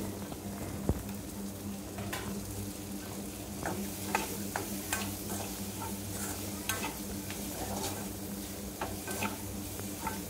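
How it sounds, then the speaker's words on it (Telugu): Tomatoes and onions fry and get stirred in a pan for meal maker curry, giving a steady soft sizzle with frequent scraping and tapping of the spoon. No one speaks. "అవన్నీ కలర్ చేంజ్ అయ్యేంత వరకు మనం ఫ్రై చేసుకోవాలి"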